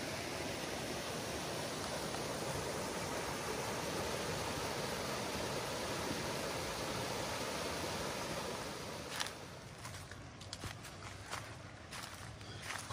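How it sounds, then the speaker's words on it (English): Small forest waterfalls feeding a creek in the South Georgia woods give a steady, even rush of flowing water heard close and alone, with a few faint clicks or taps toward the end. "Other than the sounds of the flowing water, it is rather quiet throughout the forest."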